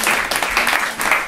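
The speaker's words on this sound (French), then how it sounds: "On peut l'applaudir." Brief burst of audience applause at a hypnosis session as a volunteer comes forward, dense clapping lasting about a second.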